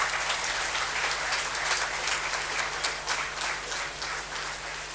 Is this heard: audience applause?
yes